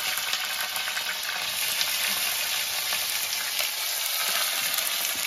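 Chicken frying in very hot oil on a village stove, a steady, dense, loud sizzle crackling without pause throughout, with no voices.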